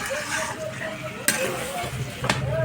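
Meat and cauliflower fry in a pan, a moderate sizzle with stirring and two sharp clicks of a utensil against the pan, faint voices murmuring underneath.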